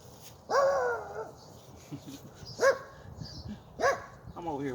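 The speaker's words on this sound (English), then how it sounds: "He barking from his yard." A neighbor's dog barking from its yard, one drawn-out bark followed by two sharper barks and a whimpering yelp, at moderate distance over outdoor background noise.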